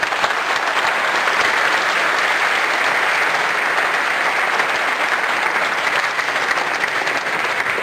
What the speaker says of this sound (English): can we at least get a round of applause for the Symfony guys?